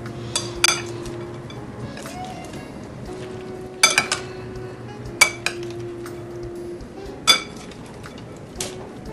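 Utensil clinks against a bowl while mango avocado chicken salad is mixed, a handful of sharp scrapes and taps spaced apart over a soft steady background hum.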